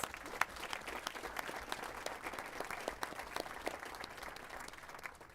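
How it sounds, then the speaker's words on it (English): Sustained applause from a council meeting audience in a city chamber, a dense steady patter of many hands clapping throughout at moderate distance, fading slightly toward the end. "Please give applause to Councilman Lilienthal and Veronica Allen for leading the Mayor Mentees"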